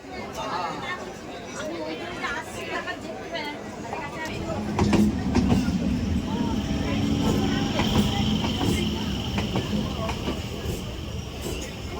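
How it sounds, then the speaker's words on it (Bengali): Rumble and rattle of a crowded train rolling past at a crossing, building midway and holding steady, with crowd chatter and voices throughout. "ওই ট্রেনটা আসলে ক্রসিং হবে।"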